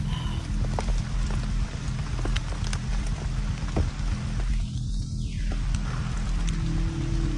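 Steady rain pours down outdoors, a dense continuous hiss of drops striking surfaces at close range, with no voices and only a few brief knocks mixed in.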